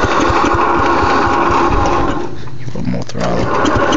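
Small engine sputtering and catching under choke and throttle, a rough rapid chugging that runs loud and close, dips briefly near the end and then picks up again.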